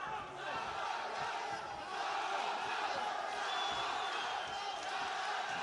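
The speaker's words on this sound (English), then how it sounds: "The crowd are shouting Samandar" Arena crowd at a 2023 MMA bout between a Tajik fighter and a Brazilian fighter, shouting and chanting one fighter's name in a steady, dense roar that fills the hall without a break.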